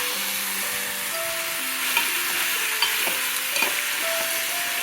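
Sweet corn and tomato curry being stirred in a pan, a steady scraping and soft sizzle with a few sharper clinks of the spoon against the pan, close and alone with a faint tonal hum underneath.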